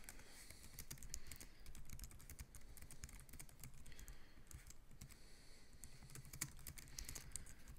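Continuous fast typing on a computer keyboard while a description is entered for an iTunes U post, a steady dense patter of key clicks lasting throughout, moderately quiet and with no talk.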